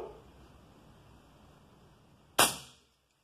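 A single sharp crack from an M11 Hunter 6.35 mm air rifle firing a 47-grain pellet, sudden and loud against quiet outdoor background, with a short decaying tail.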